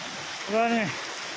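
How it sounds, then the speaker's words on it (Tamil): A stream running beside a mountain path makes a steady broadband rush throughout, with a short voice rising briefly over the water. "தண்ணி இப்படி தான் ஓடிக்கிட்டே இருக்கும்"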